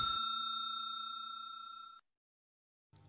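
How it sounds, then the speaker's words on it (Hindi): A notification bell sound effect rings once with a bright, clear ding that decays over about two seconds, then cuts to silence before a short burst of another sound, no talking. "नोटिफिकेशन बेल को हिट कीजिए"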